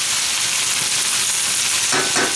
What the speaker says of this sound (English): I've been sauteing this for about 6 minutes.